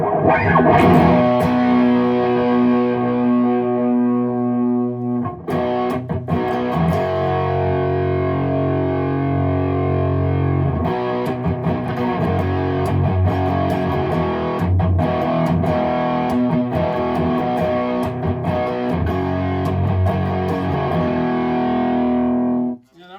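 Electric guitar through a Mosky Audio Mad Cow distortion pedal, bass boosted and tone near midway: boomy, heavily distorted chords ring out loud and sustained, a short pause early on, then fuller crunchy strumming until an abrupt stop.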